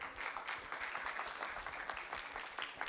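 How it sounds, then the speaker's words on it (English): Quiet applause from an audience at an international postgraduate symposium for two debate groups, a faint, continuous patter of hand claps with scattered sharper claps, no talking. "Let's give applause for both group."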